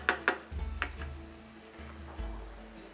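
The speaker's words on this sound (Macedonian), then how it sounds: "додека се пржи кромидот" Onion frying in a clay pan sizzles close by, with soft crackles and a few bright pops early on over a low bubbling hiss that swells and fades in waves.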